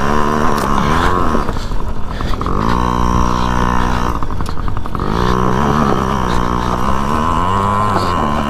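A small dirt bike ridden by a 3-year-old girl buzzes loud and close, its engine pitch rising and falling steadily with throttle changes and a few brief dips, with faint voices in the background.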